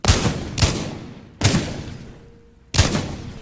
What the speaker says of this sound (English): Pretty much every weapon sounds like a punch to the gut